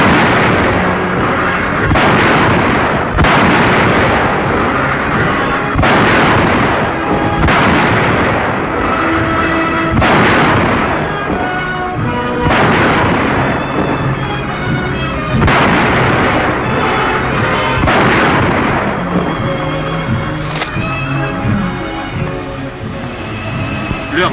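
Heavy 280 mm artillery guns fire in a 1940 wartime newsreel, loud booming blasts repeating every couple of seconds over a continuous roar, with narration running underneath.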